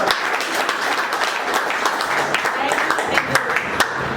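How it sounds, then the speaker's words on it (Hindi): A crowd at a field leaders' meeting breaks into loud, sustained applause. Dense, even clapping fills the whole four seconds without a break. "एक बार जोरदार तालियां सभी।"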